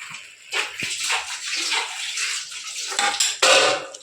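Mushroom biryani stirred in a pot after lemon juice is squeezed in, giving close, continuous metallic scraping and clattering of the spoon against the pot, with a sharp clank near the end.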